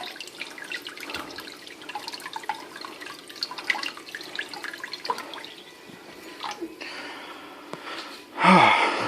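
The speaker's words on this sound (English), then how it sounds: "once you have the atomizer rinsed out, everything looks good" Running tap water splashes over a vape clearomizer atomizer as it is rinsed in a sink, a steady close trickle with brief drips, swelling into a louder gush near the end.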